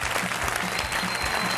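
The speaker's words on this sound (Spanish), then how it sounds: "Trending topic, eso merece un aplauso" An audience applauds in a Spanish television talk-show studio, a short burst of dense, even clapping heard close and loud with no voices over it.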